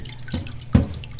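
Water drains through a soil sieve into a bucket below during a sieve analysis, two short splashy trickles in quick succession, close and fairly loud with no talking.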